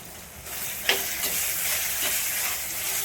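Ginger garlic paste frying with onions in a pan for village-style chicken kuzhambu, a steady broad sizzling hiss with a few faint stirring scrapes, no talk.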